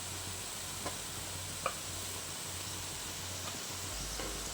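Grated coconut being stirred into sautéed vegetables in a pan gives a steady, soft sizzling hiss, with a couple of faint scraping clicks from the spoon.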